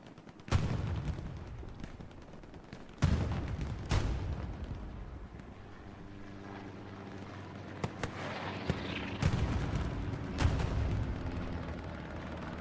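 Heavy booming blasts and rattling machine gun fire from a Hell Let Loose battle, several loud explosive hits spaced apart with continuous distant shooting between them.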